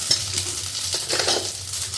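Cumin seeds added to hot oil for Kathiyawadi tempering, spitting in a bright close sizzle with light stirring clinks over about two seconds.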